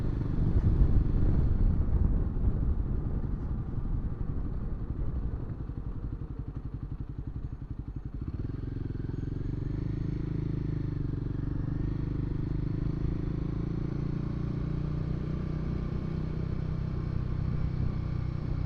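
Royal Enfield Himalayan 450 motorcycle riding along a road, a steady, loud engine drone with wind rumble throughout, slightly rougher and busier in the first few seconds before settling into an even cruise.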